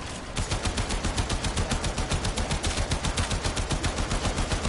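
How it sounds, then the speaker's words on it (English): Rapid automatic assault rifle fire in the shooter game Warframe, a long unbroken burst of evenly spaced loud shots repeating for several seconds with no talk over it. "I'm just shooting AR at him"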